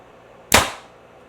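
A 2021 Xpedition X33 Magnite compound bow looses one arrow: a single sharp, loud snap and thump from close by, fading quickly into quiet, with no talking.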